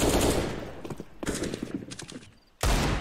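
Rapid video-game gunfire crackles in dense bursts, loud and close, with brief pauses between volleys and a heavy final burst at the end.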